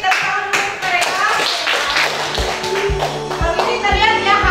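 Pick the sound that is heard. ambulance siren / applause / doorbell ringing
applause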